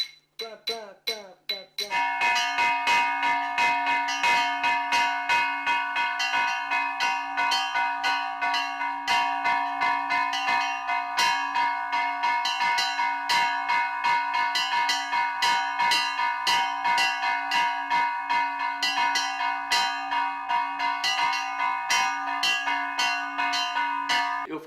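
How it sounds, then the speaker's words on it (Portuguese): A church bell struck over and over in a steady rhythm, each bright metallic clang ringing on into the next, close and clear after a few quicker opening strikes. "eu fazia questão de tocar o sino"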